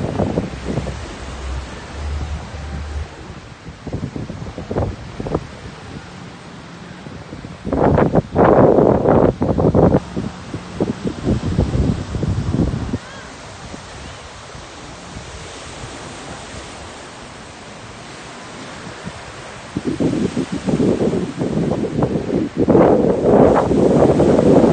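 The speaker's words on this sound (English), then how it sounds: "It's a lovely beach to visit." Surf washing ashore with steady wind buffeting the microphone on Monkey Beach, Koh Larn Island near Pattaya, louder rushes of waves swelling in bursts around the middle and end, no talking.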